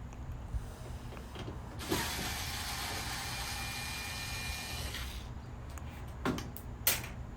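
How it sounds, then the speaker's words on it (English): A powered screwdriver whirs steadily for a few seconds while taking screws out of the blower housing of a Samsung dryer. Quieter clicks and knocks of handling come before and after it, close by, and no one speaks. "Okay, so you got the bulkhead and the blower housing screws off."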